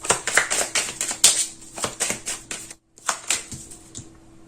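Tarot cards being shuffled and laid down in a rapid run of crisp, close taps and flicks, with a short pause partway through before the snapping cards start again. No one speaks.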